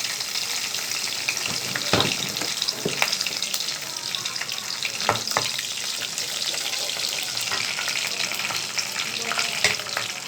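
Mustard, fenugreek and cumin seeds spluttering in hot oil for a spinach and brinjal kara kuzhambu, a dense close crackle broken by sharp popping bursts and no speech.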